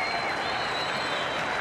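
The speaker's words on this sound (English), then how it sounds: "they're getting a great round of applause from the crowd" After a cricket win for Australia A over Zimbabwe in a World Series Cup match, the crowd breaks into loud, steady applause, a dense wash of clapping that carries through the whole moment.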